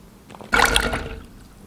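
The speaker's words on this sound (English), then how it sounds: "take these and put them into a pot of salt water and let them sit for 15 minutes" Eggplants dropped into a pot of salt water, a short splashy plunge followed by a brief settling trickle, close and fairly quiet.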